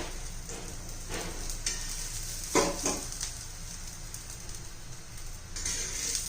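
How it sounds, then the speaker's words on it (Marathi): A coriander and sesame paratha crisping in oil on a pan gives a steady, fairly quiet sizzle, broken by a few short louder crackles and spatters, with no voices. "आता भाजून घेऊया छान असा खरपूस त्याची तेल सोडून घेऊया"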